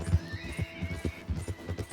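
Horse neighing in the Red Dead Redemption 2 video game, a quick whinny rising and trailing off over rhythmic hoof clops, close and moderately loud with no talk.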